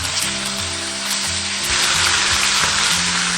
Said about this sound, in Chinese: 炒香后下入鱼骨、鱼头